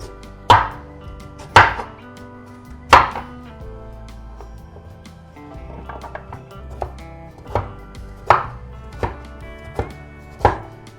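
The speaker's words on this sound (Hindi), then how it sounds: "गाजर को भी मोटा मोटा काटेंगे" Carrots cut into thick chunks with a knife on a board, a series of loud, sharp chops in uneven spacing, first three spaced strokes, then softer handling noise, then a quicker run of chops near and clear.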